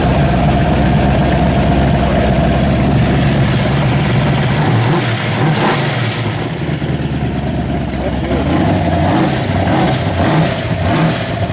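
A carbureted car engine runs in a garage after being fired up without pump shots. It gives a loud, close, continuous rumble with slight rises in revs, and voices can be heard faintly under it.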